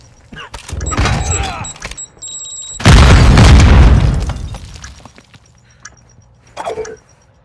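A planted bomb detonating in Call of Duty: Modern Warfare 2 ranked play, a loud, deep explosion with a long roaring decay, preceded by gunfire and followed by a few fainter shots.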